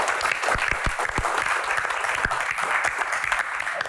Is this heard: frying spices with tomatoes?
no